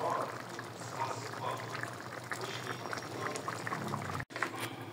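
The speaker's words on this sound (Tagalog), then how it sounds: "Antayin natin kumulo." A pot of soup made with radish, pork liver and pork boils steadily up close, giving a continuous bubbling simmer with a brief dropout near the end.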